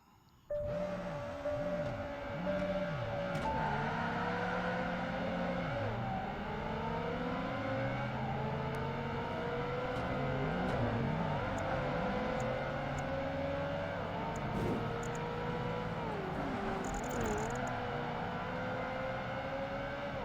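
A Ferrari 360 Spider's engine races in Project Gotham Racing 2 around a Sydney circuit, revving steadily and close, with pitch sweeping up and down through gear changes for the full stretch, no talk over it.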